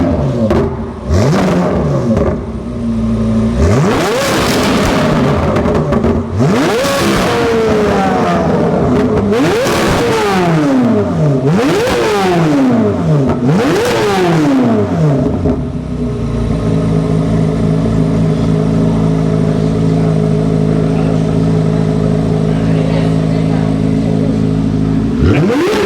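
Corvette C8 Z06 with an AWE exhaust, revved repeatedly in sharp blips that climb and fall, several rapid pulls in a row, then dropping back to a loud, steady idle, close and with no talk.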